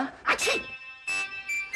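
A boy sneezes repeatedly indoors, a sharp burst followed by further sneezing bursts in quick succession, loud and close with no talk over them.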